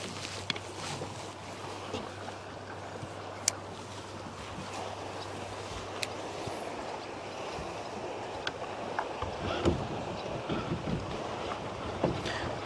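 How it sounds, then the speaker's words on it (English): A boat's trolling motor hums steadily and low under wind and water noise outdoors, with occasional faint clicks and splashes; continuous and fairly quiet. "A lot of times I'll just use a trolling motor to run back"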